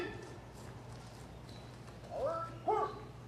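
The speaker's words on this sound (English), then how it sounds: "Horse, horse." A horse at an Independence Day event in Ste. Genevieve, Missouri gives two short whinnying calls near the end, with faint hoof clopping and outdoor crowd noise underneath.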